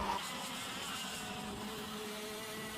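X30J racing karts lap the track at Wilton Mill Kart Club, their high buzzing engines droning together at a steady, fairly distant level with no voices.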